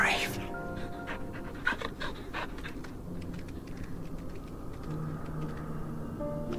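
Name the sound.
small dog panting, from video game Final Fantasy 16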